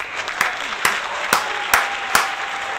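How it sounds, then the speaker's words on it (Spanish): Audience applause at a Valentine's 2008 television variety show comes through as about five loud, evenly spaced claps close by, with a faint background murmur between them. "Un aplauso, por favor."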